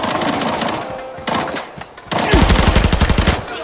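Gunfire in a battle royale shooter game, with rapid automatic bursts and a dense close volley of shots that closes out the burst.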